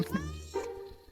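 A cat in a Roblox horror game gives a short, close meow, with a second brief mew right after it, under faint game ambience.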